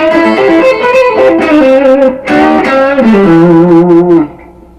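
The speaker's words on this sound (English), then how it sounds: "Turnaround lick number 16 is another one in A in the 5th position" Electric guitar plays a blues turnaround lick in A in fifth position, a short phrase of ringing single notes with string bends and pull-offs, settling on a final held note that fades out.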